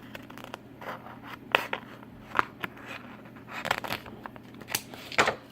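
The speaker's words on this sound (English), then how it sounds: "So I'd grab my scissors." Scissors snip and rasp through thin vinyl in a series of short, uneven cuts, with soft scraping and rustling between the snips.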